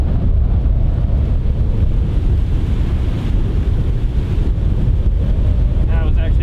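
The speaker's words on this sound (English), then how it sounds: "The wind's pumping out of the east at like 20" Strong east wind blowing across a golf course, a steady heavy roar buffeting the microphone throughout, with a faint voice briefly underneath.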